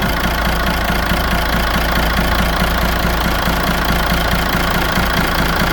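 A six-cylinder diesel, roughly five litres, idles steadily aboard a river car ferry, a close, loud and continuous low rumble with an even knocking rhythm and no talk.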